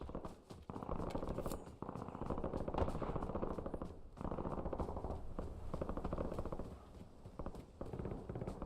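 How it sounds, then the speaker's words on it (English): Rapid gunfire in the video game Warzone rattles almost without pause in dense, sharp bursts, loud and close, with a few brief gaps. "A lot of gunfire up here."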